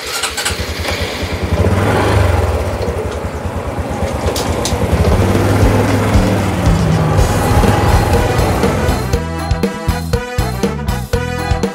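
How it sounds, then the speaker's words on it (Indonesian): A borrowed motorcycle ridden around Tak Bai, Thailand, its engine droning loudly and steadily with rising and falling revs, then turning choppier and more sputtering toward the end. "Saya akan menggunakan motor ni untuk jalan-jalan sekitar Takbai."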